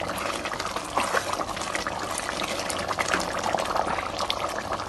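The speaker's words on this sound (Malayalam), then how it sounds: "നമ്മൾ ഇതിലേക്ക് ചിക്കൻ ചേർത്ത് കൊടുക്കണം." Liquid bubbles and sloshes steadily in a very hot pot of boiling Naaden chicken curry base as chicken goes in, a continuous close hiss and trickle with scattered small splashes.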